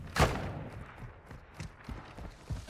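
Gunshots in the Modern Warfare 2 beta, a loud sharp shot followed by several quieter, irregular bangs and thuds spread across a couple of seconds.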